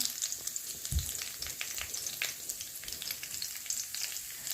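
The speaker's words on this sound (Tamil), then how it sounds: "இப்போ பார்த்திங்கன்னா நல்லா பொரிஞ்சு வந்துடுச்சு" Close, steady sizzling and crackling of anchovy fish gravy ingredients frying in a pan, with light popping spatters throughout and no voices.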